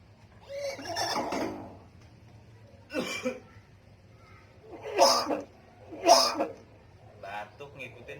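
A talking myna bird imitates a cough in several short, raspy bursts spaced a second or two apart, close and fairly quiet, with people talking around it.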